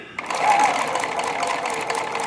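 A White Euroflair 8910 sewing machine made by Husqvarna Viking runs steadily at an even speed, its motor hum and rapid needle clatter continuous and close, with no voices.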